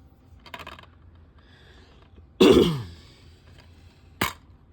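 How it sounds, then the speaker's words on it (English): A throat clearing rings out near and fairly loud for about half a second, with a sharp click coming soon after and faint rustling before it. "Had to clear my throat again."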